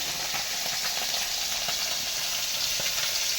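Fish sizzling and crackling as they fry in hot oil in a pan, a close, steady hiss with small pops throughout and no talking.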